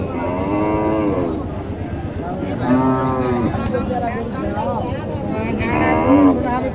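Cows lowing at a rural cattle market in Naogaon, several long, loud, drawn-out moos in succession over a bustling crowd murmur.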